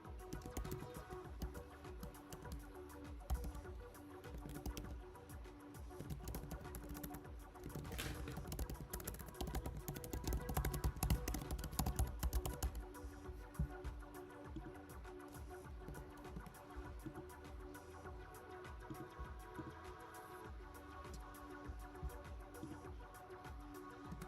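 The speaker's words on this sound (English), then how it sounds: "Ripping that keyboard." Rapid typing on a computer keyboard, a dense, steady patter of key clicks that runs the whole time, briefly heavier in the middle, heard close up with no voices.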